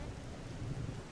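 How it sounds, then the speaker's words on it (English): Rain falls in a camping video game, a faint, even rushing hiss with a low rumble beneath, steady and without talking. "It's raining cats and dogs."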